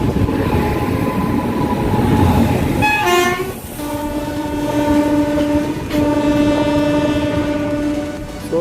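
A loud train, the VSG-SHM 18048 Express, rumbles steadily close by as it enters Ballari Junction station, while its horn sounds sustained multi-tone blasts, once briefly and then in two longer stretches.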